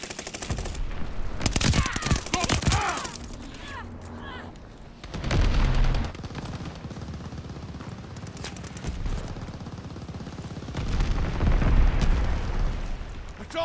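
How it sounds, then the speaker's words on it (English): Explosions and rapid gunfire in Call of Duty Vanguard combat, with bursts of automatic fire, heavy blasts swelling around the middle and end, and a voice speaking amid the battle. "Got an enemy glide bomb on the way."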